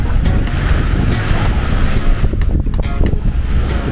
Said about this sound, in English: It's a nice beach. Small, like a lot of the beaches, but it's a little more sheltered here.